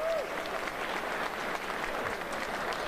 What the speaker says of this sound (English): Can we get a round of applause for these two